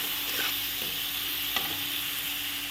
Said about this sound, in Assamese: লৰাই দিছোঁ